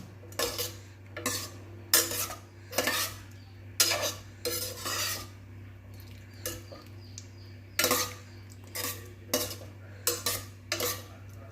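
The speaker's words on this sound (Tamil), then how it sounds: "ஆட் பண்ணிவிட்டு நல்லா மிக்ஸ் ஆகிற அளவுக்கு இப்படி வந்து 2 கிண்டி விட்டுக்கலாம்." Vegetable sambar being stirred in a pot, a spoon scraping and clinking against the metal in quick repeated bursts separated by short pauses, close and fairly loud with a low steady hum underneath and no talking.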